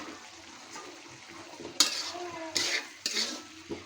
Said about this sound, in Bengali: আমি এখন টমেটোগুলো দিয়ে দিব।